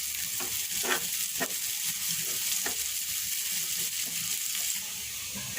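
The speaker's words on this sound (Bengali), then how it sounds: "হালিমের জন্য আমি এখন একটু বেরেস্তা ভেজে নিচ্ছি।" Sliced onions frying into beresta for haleem, a continuous bright sizzle in hot oil with occasional stirring clinks, close and steady with no talk.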